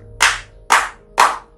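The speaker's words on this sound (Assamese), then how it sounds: "মানুহে তালি বজালে" Three sharp hand claps, loud and close, evenly spaced about half a second apart, with quiet between them.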